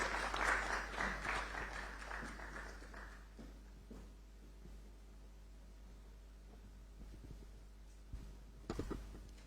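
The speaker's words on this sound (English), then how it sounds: "Let's welcome her with a round of applause." An audience at a public forum on media and democracy in Ghana applauds a minister, a burst of clapping that fades after about three seconds into quiet room noise with a steady low hum and a few taps.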